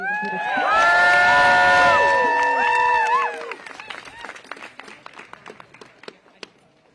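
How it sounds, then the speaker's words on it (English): A crowd at a rally against newspaper layoffs erupts in loud cheers, whoops and shouted voices over clapping, then the cheering fades into scattered, sharper individual claps trailing off. "Can we get one more round of applause for Molly?"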